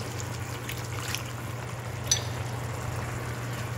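Water trickles and pours into a cooking pot, a faint, steady liquid sound with a low hum under it and a small clink partway through.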